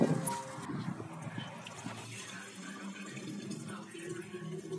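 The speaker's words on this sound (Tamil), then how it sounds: "இதில் நம்ம தேவைக்கு ஏற்ற மாதிரி தண்ணி ஊற்றி மிக்ஸ் பண்ணிக்கலாம்" Water pours and splashes steadily into a pan, a continuous watery rush at moderate volume with no talking.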